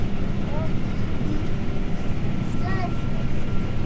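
A combine harvester cutting spring oats in a UK field during the 2020 harvest, its engine and cutting gear making a loud, steady, broadband drone that runs unbroken from start to finish.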